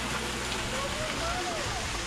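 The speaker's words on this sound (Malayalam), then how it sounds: "ഒരു വെള്ളച്ചാട്ടം ചെയ്തിട്ടുണ്ട്" An artificial waterfall feeding a zoo pond at Yerevan Zoo, Armenia, gives a steady, even rush of falling water that continues unbroken throughout, with faint tonal sounds drifting in the background.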